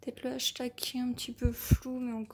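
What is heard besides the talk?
None of the usual background noises is heard.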